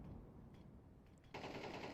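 AK rifle bursts ring out in a professional Counter-Strike match, faint rapid fire that swells into a louder, sustained stream of shots near the end.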